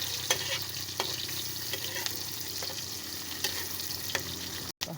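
Mixed vegetables fry and get stirred in a pan, a steady sizzle broken by periodic scraping strokes of a utensil, close and continuous with no talking.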